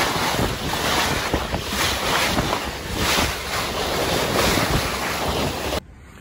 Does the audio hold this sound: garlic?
no